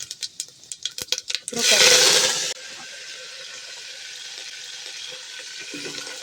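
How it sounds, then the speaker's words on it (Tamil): Mustard seeds popping in hot oil for radish sambar, a quick run of sharp crackles followed by a loud hiss as cumin goes in, then a steady softer sizzle close by. "கடுகு பொரிஞ்சதுக்கப்புறம் ஜீரகம் போட்டுக்கலாம்"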